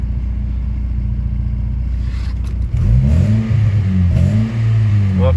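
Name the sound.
old car engine running and revving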